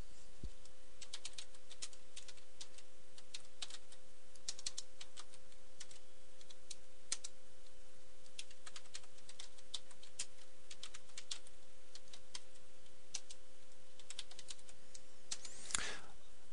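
Quiet, irregular clicking of computer keyboard keys as Cisco router configuration commands are typed, scattered taps with short pauses over a faint steady background hum.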